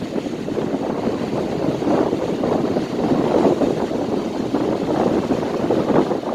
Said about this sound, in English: Quite a wind blowing up here. The old lighthouse getting a bit of a beating today.